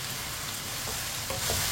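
Ridge gourd fries in hot oil while a spoon stirs it, giving a steady close sizzle with soft scraping stirs that grow slightly louder near the end.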